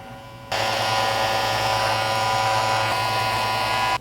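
Cut Buddy electric hair trimmer liners buzz on abruptly and run with a steady close whir while shaving a beard patch, then cut off after about three and a half seconds.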